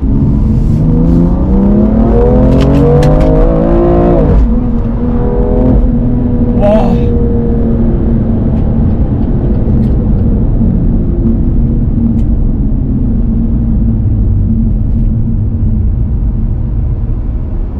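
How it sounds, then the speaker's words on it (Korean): A BMW M2 Competition engine roars and revs hard as it accelerates in Sport Plus mode, rising in pitch before dropping into a loud steady exhaust rumble; a voice briefly exclaims at one point. "이 배기음과 이 가속력을 보실 수 있었을 거라고 생각이 듭니다"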